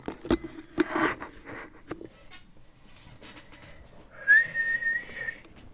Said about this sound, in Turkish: ben ıslık çalmayı çok seviyorum